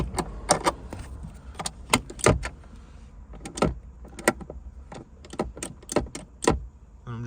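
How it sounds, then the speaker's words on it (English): A Nissan Juke handbrake being raised and lowered, giving close, sharp bursts of rapid ratcheting clicks that repeat in irregular clusters with short pauses between. "so that the ratchet can keep ratcheting. So just going to do a couple of these. Put the handbrake down again."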